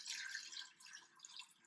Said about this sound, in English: So we're going to go ahead and just pour in some water.